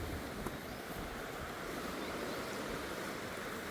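Water trickles and gurgles steadily as groundwater flows out into a small stream in a reserve, a constant close wash of running water heard alone.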